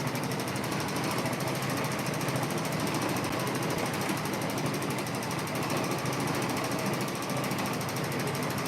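A Janome M17 embroidery machine stitches an in-the-hoop quilt block with a fast, steady mechanical rattle that hums on evenly from start to finish, close and without pause.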